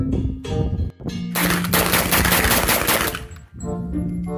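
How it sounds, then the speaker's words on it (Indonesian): An MP5 submachine gun fires in a video game: a loud, dense burst of rapid shots lasting about two seconds, set against steady electronic game tones before and after. "Ini ada senjata MP5,"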